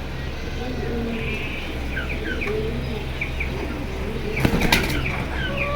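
Pigeons in a bird collection flap their wings in a short, sharp flurry near the end, over a steady low background hum and scattered soft chirps.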